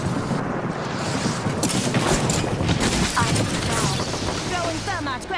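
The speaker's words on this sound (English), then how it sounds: "Airstrike! I'm down. Throwing thermite grenades!" An airstrike and thermite grenades in the Apex Legends video game bring rapid rumbling explosions and crackling bursts that layer into a dense, loud barrage, with a voice talking over it.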